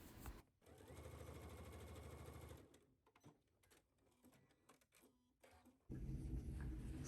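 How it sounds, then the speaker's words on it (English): A domestic sewing machine stitches down a pocket seam on a vintage McCall's garment pattern: a rapid mechanical chatter runs for a couple of seconds, breaks into shorter bursts and small handling sounds, then starts again loudly near the end. "I'm going to continue sewing down that seam."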